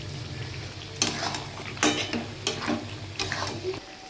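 Beaten yogurt added to cooking chicken and stirred in a pan: a low background sizzle broken by several loud scraping spoon strokes and clatters against the pot.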